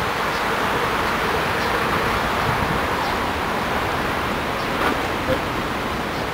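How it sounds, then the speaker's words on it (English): A continuous broad roar of road traffic fills the scene, dense and steady without distinct passing vehicles, like a busy road just nearby. "there's a lot of traffic just down here"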